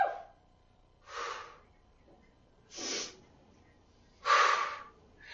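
Three deep, audible breaths during a dumbbell workout, each a broad breathy whoosh lasting about half a second, spaced more than a second apart, close to the mic and growing louder toward the last.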